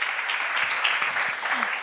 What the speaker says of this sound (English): Let's give him a round of applause as he joins me up on stage.